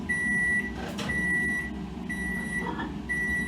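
Microwave oven humming steadily while melting rocky road fudge, a low drone with a faint high whine and a soft fan rumble underneath, a brief clunk midway.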